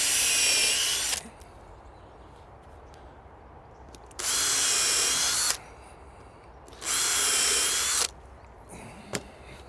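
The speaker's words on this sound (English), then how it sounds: "I'm just going to pre-drill" A power drill whines in three separate bursts, each lasting about a second, pre-drilling pallet wood, with quiet pauses and faint clicks in between.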